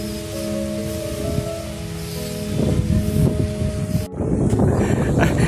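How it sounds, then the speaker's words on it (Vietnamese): Strong wind blows over a microphone outdoors while a 4.2-meter traditional bat-wing kite fitted with a set of flutes flies, giving a steady rumbling roar with sustained tonal droning and a sudden gust near the end. "Gió to"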